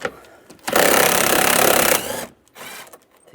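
10mm bolts being removed with a 10mm socket during EVAP core work on a 2007-2013 Chevrolet Silverado: a loud, steady mechanical buzzing burst of about a second and a half, followed by a few faint clicks and a softer rattle.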